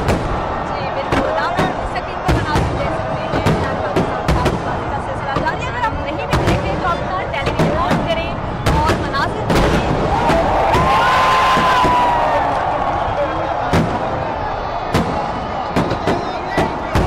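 Fireworks burst repeatedly over a large crowd at Minar-e-Pakistan's Independence Day celebrations on 14 August, with sharp irregular bangs over a constant roar of people and someone talking throughout.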